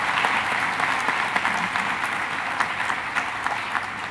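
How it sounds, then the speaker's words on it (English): A conference audience applauds a panel at a 2015 economic development forum in Jordan, steady dense clapping filling the whole stretch at moderate loudness, with no speech over it. "Nice round of applause for the panel"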